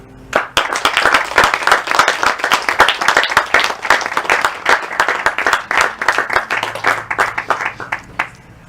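Loud applause at a graduation certificate ceremony, a crowd clapping hard with distinct, sharp hand strikes in an uneven rhythm that surges and dips for several seconds before tapering near the end.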